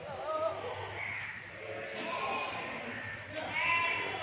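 Goats bleat at the Deonar livestock market in Mumbai, several wavering calls rising over a busy crowd murmur, moderately near, with other animals and background chatter around them.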